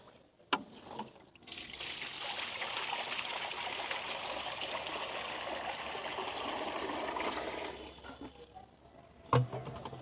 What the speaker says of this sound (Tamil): நான் தண்ணி வந்து ஊற்றிக்கிறேன்